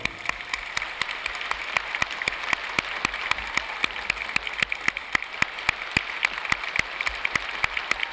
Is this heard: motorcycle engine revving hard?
no